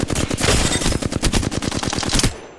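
Sustained automatic fire rattles in a shooter game as targets are shot during an aim warm-up drill, loud and close, then cuts off abruptly just before the end.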